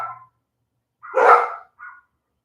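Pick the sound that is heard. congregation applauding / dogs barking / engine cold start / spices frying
dogs barking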